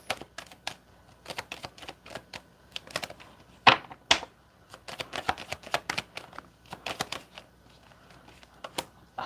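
Tarot cards are drawn and shuffled up close in a steady stream of crisp, rapid flicks and snaps, with one louder riffle partway through and no talking.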